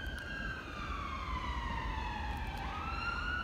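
Emergency vehicle siren near Brighton station, a steady wailing tone that sweeps down and then shifts pitch, heard at moderate distance over a constant low rumble of traffic and station ambience.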